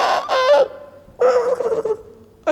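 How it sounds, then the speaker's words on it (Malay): Rooster crowing nearby, loud harsh calls in three bursts: a stuttered opening with a held tail, a longer cry after a short pause, then the start of another, with no talk. "Boleh kokok lagi."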